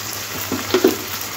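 Tomato and onion sizzling in a hot pan, a steady frying hiss with a few brief stirring scrapes and clinks in the middle, close and alone without talk.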